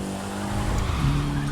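In the racing video game The Crew 2, a car drifts with a continuous engine drone and a squealing tire tone that bends and shifts midway, sustained and fairly loud throughout.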